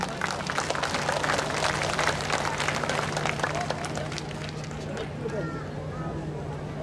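An audience at a world folk dance festival claps steadily for an Ecuadorian dance group in a dense burst of applause that gradually thins out toward the end, with a faint background hum.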